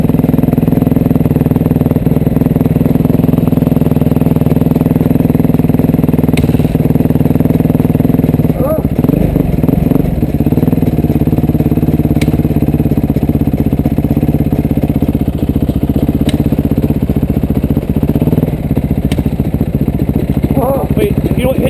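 Motocross dirt bike engine running steadily from start, a loud continuous motor drone with occasional clatter, near the microphone, with people talking over it.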